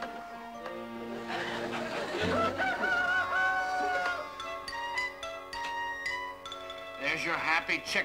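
A rooster crows and clucks amid a busy scene in a classic sitcom, the calls rising over music and voices, with a second burst of crowing near the end.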